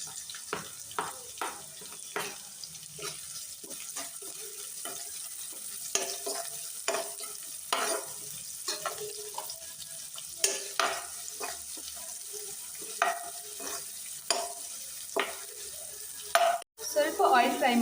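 Onion frying with ginger and garlic in hot oil for street-style egg rice, a quiet continuous sizzle punctuated by frequent clattering stirs of a spatula, a few louder scrapes near the end.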